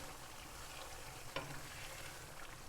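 Desi chicken masala with crushed garlic sizzles steadily in a pan as a spoon stirs it, with one brief scrape partway through. The frying noise is continuous and moderately close, with no talking.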